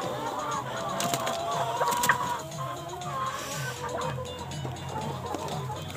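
Hens on a desi chicken farm cluck softly and intermittently at close range, with some rustling and shuffling around them.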